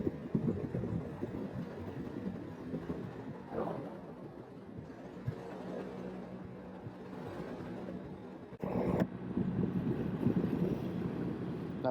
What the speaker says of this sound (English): But you guys got to be able to hear that wind, right? Because I hear it in my ears on the helmet.